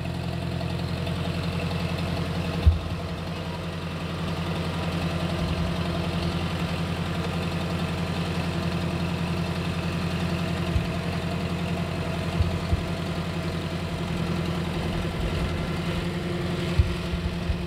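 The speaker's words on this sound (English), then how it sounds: "firing up the big tractor." A Kubota L2501 tractor's diesel engine idles steadily with a low, even rumble and faint knocking, joined by a few brief clunks and taps, with no talking.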